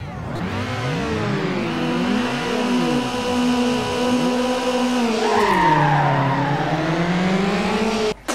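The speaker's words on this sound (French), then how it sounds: "Bonjour les vrais sons de voiture et les bons bruitages" Synthetic-sounding car engine revs and shifts pitch while tires squeal in long skids in the video game Need for Speed Underground 2, loud and continuous throughout.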